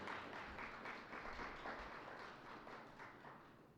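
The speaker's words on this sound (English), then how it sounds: "let's clap it up for Black Liberation Month" A Merritt College audience claps during a Black Liberation Month program, making faint, steady applause that fades slightly toward the end.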